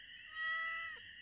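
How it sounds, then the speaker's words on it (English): A cat meows once in the Stardew Valley video game, a clear, drawn-out tonal cry rising and falling over about a second, alone against quiet background ambience. "Only a cat."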